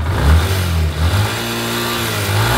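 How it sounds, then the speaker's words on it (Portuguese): A Yamaha Lander 250 motorcycle engine revved hard while standing still, close and loud, its pitch climbing and surging in a couple of quick throttle blips before settling into a steady high drone. "Você acelerando quase que ao máximo, não aconselho ninguém a acelerar a moto até a faixa vermelha do contagiro"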